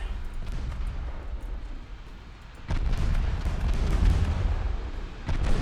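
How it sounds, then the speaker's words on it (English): Torpedo hits destroy an enemy ship in the naval game Ultimate Admiral Dreadnoughts, heard as a low rumbling roar of explosions that swells midway and stays heavy and booming. "Two torpedo hits, enemy ship destroyed."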